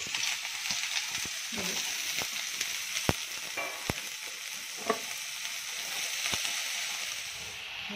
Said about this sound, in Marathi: कांदा आपल्याला नरम करून घ्यायचा जरा लाल नाही करायचा